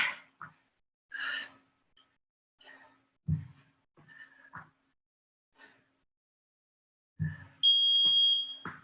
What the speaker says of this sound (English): When the beep goes, you go again.